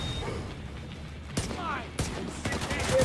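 Bursts of gunfire sound in The Division 2, a few sharp cracks and short volleys over about three seconds. A voice speaks underneath amid the game's background noise.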